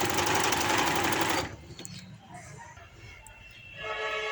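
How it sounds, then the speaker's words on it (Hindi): A sewing machine stitches a puff sleeve seam at a half-inch margin, running fast and steady for over a second, then stopping, then starting again faintly near the end. "तो यहाँ से मैं इसकी सिलाई लगा देती हूँ, वही 1/2 इंच के मार्जिन से।"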